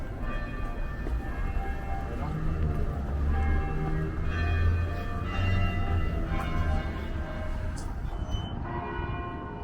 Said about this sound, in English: Here the church bell is playing across the street.